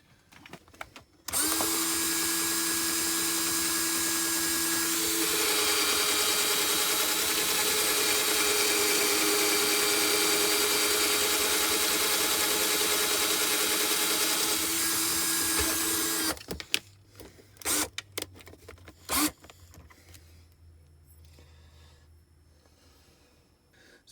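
A power drill spins a 30-30 rifle cartridge case chucked in a threaded shell holder, giving a loud, steady high whine for about fifteen seconds. The pitch shifts partway through, then the drill stops and a few faint clicks of handling follow.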